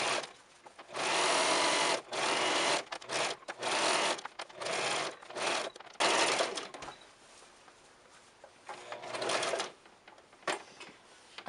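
A sewing machine stitches shirring across a dress bodice in short stop-and-start runs, loud whirring bursts broken by quick pauses, fading to softer intermittent stitching toward the end.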